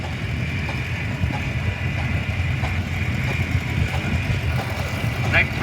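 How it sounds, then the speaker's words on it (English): A 1962 John Deere 3010 tractor drives by in a parade of power at a historical engine show, its engine chugging at a steady low idle throughout while an announcer talks over it. "And then we have the John Deere 3010, built in 1962, owned by Steve and Barb Hill of Drumore,"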